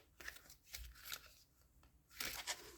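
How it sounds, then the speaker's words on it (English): Someone shuffles a deck of cards at close range, making several quick riffling bursts with soft pauses between them, all fairly quiet. "Man, I'm not shuffling great today,"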